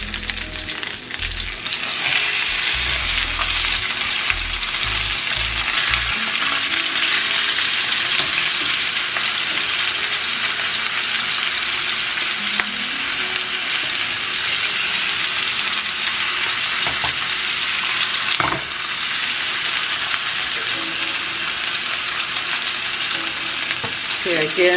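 A Cornish hen sears in a pan right after being flipped, a loud continuous sizzle and crackle that holds steady and close for the whole stretch, with a few low knocks early on.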